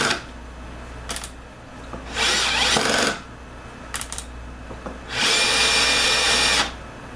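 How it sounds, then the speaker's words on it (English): Power drill in a woodworking shop, running in two bursts, a short one then a longer one of about a second and a half, with brief trigger taps between and quiet gaps around them, no talk. "there are certain times where a power tool just makes more sense"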